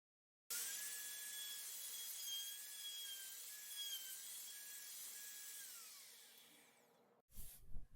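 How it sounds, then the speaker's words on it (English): A saw cuts through a wooden piece at the bottom of stool feet with dovetail tenons, producing a steady, close rasping drone that runs for several seconds and then stops, followed by a few knocks. "It's time to flip the wood piece 180 degrees so we can cut the bottom"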